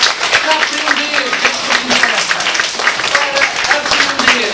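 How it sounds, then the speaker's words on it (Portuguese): School children applaud visiting author David Machado, their clapping rattling on steadily and close at hand while voices carry over it. "mais uma vez, uma salva de palmas para ouvir, para aprender"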